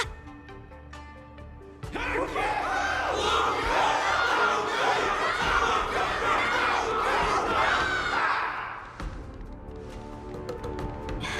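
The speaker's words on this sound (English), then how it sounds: "Everyone's cheering for you, Luca!" A large in-game crowd in Honkai: Star Rail cheers and roars after a battle, a loud, dense, sustained wall of shouting and applause that swells suddenly and holds for about six seconds before fading.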